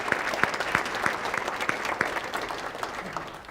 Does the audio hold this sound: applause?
yes